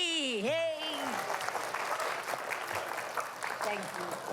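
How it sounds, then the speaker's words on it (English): An audience at a Black Children's Book Week celebration applauds illustrator R. Gregory Christie, sustained clapping across the room after a brief whoop and voices calling out at the start. "So please give him a big round of applause to Mr. Richard Gregory Christie."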